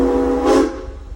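A Silver Dollar City amusement park train sounds a loud, close whistle that swells and then fades within a second, over a steady low running rumble.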